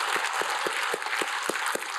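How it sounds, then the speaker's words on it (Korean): A church congregation claps in praise, many hands together in a broad, steady wash of applause with a few stronger, evenly spaced beats coming through. "우리 하나님께 영광의 박수드립니다."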